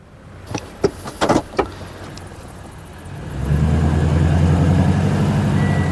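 A 1962 Dodge Custom 880 starts out with a few sharp knocks and clunks, then its engine settles into a loud, steady, close rumble as the car tries to pull a trailer out.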